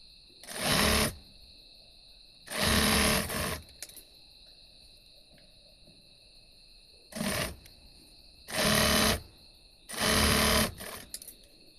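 A sewing machine stitches fabric in five loud, steady whirring bursts, each lasting about a second, separated by pauses filled with a faint electrical hum.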